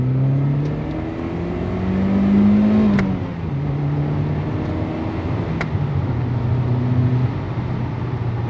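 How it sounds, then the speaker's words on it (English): A Toyota Celica GT-Four, manual all-wheel drive, with an aftermarket exhaust, drones steadily while driving, its engine tone rising and falling through a brief rev swell near the middle, continuous and fairly loud with no talk. "this car has an aftermarket exhaust on it"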